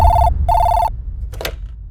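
A telephone bell rings loudly and close in two short, even bursts, followed by a brief clatter.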